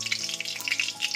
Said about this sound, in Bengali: চিকেনের পিসগুলোকেও ঠিক একই রকম ভাবে আমি দিয়ে দিয়েছি তেলের ওপরে